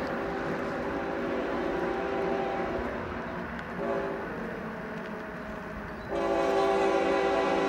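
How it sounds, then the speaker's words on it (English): A train rumbles past with a sustained horn blast that breaks off briefly and then returns louder, heard without any voices. "We've got a train coming."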